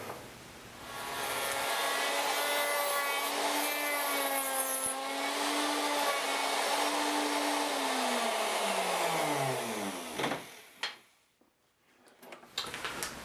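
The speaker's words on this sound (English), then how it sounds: "I've got lunchbox bottom routed out as deep as I can get it" A power router hollows out the bottom of a log lunchbox, a loud, steady motor whine with shifting pitch as it cuts into the wood for about ten seconds, then winds down and stops, leaving a few brief knocks.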